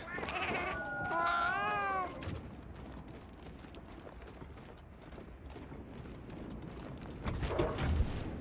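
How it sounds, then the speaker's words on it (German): A cat gives a couple of drawn-out meows up close, followed by faint soft padding and low background noise as it wanders across a computer keyboard. "Da kommt jetzt gleich wieder eine Katze und schlappt mir über die Tastatur."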